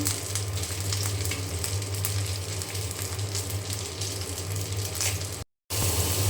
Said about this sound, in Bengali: দুই পাশে খুব ভালো করে একদম মুসমুসা করে ভেজে নেব